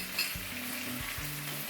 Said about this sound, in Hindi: अब हम इसको मिला देंगे और इसको थोड़ा सा गलाएंगे इसके अंदर, बटर के अंदर।